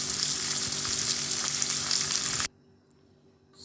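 Liver frying in a pan, a loud continuous sizzle with light stirring crackles that cuts off abruptly partway, leaving near silence.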